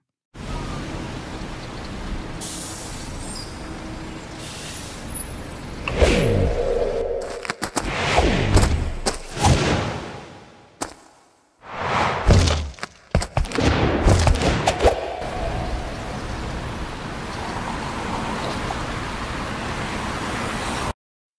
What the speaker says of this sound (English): I first featured some city ambient sounds from the collection.